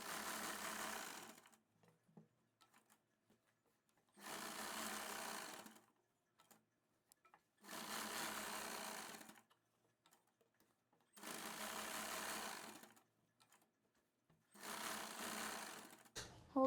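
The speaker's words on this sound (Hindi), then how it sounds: "फिर सिलाई लगाएंगे।" A sewing machine stitches elastic onto fabric in five steady motor runs of about a second and a half each, separated by short quiet pauses with faint handling clicks.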